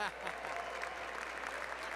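Audience applause at an awards ceremony, a steady wash of clapping that holds at an even level for about two seconds, with some voices mixed in.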